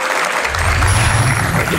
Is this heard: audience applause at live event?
yes